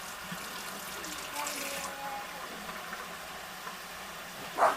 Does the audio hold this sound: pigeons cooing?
no